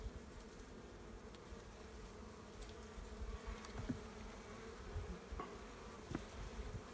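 Honeybees buzz steadily throughout a spring hive inspection, a dense continuous hum close by with a few louder passes from individual bees near the listener, and no talking.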